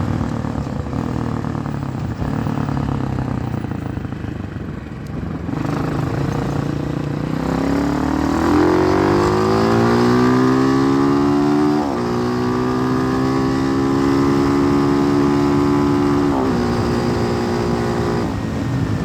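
A Hawk 250 motorcycle with a Loncin RE250 engine climbing a hill in fifth gear, its engine drone rising steadily in pitch under load, loud and close with wind noise and no talk.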